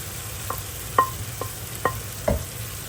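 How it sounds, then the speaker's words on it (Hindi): Fried okra tipped into a tomato masala and stirred, giving a few soft, spaced scraping stirs over a quiet, low sizzle, close by with no talk. "ये अच्छे तरीके से अब जो हमने भिंडी फ्राई की थी वो इसके अंदर ऐड कर देंगे"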